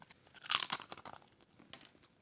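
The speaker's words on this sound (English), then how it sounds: "It's got perfect crunch." Ruffle-cut Japanese seaweed potato chips crunch loudly up close as they are bitten, followed by several quieter chewing crunches in an irregular rhythm.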